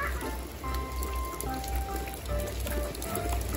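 Rain falling where African bullfrogs play in rainwater, a dense steady patter of drops splashing on water and hard surfaces, close and continuous, with faint voices in the background.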